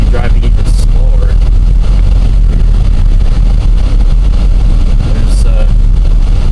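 Car driving slowly through a heavy snowstorm on a plowed road on Groundhog Day 2011, a steady low engine and road rumble filling the cabin with someone talking over it throughout.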